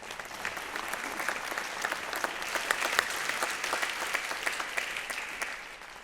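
A large audience applauds after a panel on compassion and human flourishing at Emory: dense, sustained clapping from many hands, even and moderately loud throughout, tapering slightly at the end.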